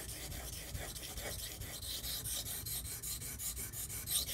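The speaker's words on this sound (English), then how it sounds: "because I'm grinding it and I can see the fresh scratches, I will try to make it even" A convex knife edge is ground during sharpening, giving quiet, rapid, rhythmic rasping strokes that repeat evenly throughout.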